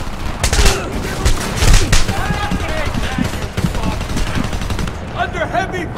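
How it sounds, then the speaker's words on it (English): Heavy gunfire in the Homefront video game, with rapid automatic bursts and dense overlapping shots that continue without a break, loud and close. Voices and game sounds mix in with the shooting. "Under heavy fire!"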